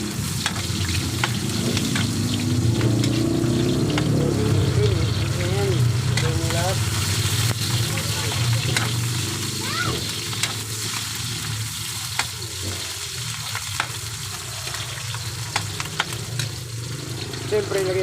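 Garlic and onion sautéing in a pan for Filipino bopis: continuous close oil sizzle with scraping stirring strokes, a person talking over it throughout.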